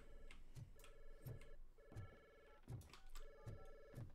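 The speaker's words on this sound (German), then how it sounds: "das Telefon schellt, doch ich bin im Keller." A telephone in the video game Robocop: Rogue City rings in a steady repeating double-burst pattern, faint and even, with soft clicks under each ring and no speech.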